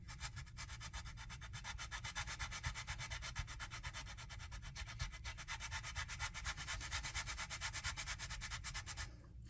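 A sanding block rubbed over the wooden frames of a Muscongus Bay lobster smack model ship, making a fast, even back-and-forth scraping rhythm, close and continuous for the whole stretch with no talk.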